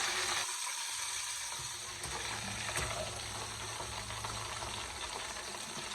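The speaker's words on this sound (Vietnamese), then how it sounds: "mình chiên tiếp tục cái con còn lại nha" Continuous crackling sizzle of chicken deep frying in hot oil, steady and close, with occasional louder pops.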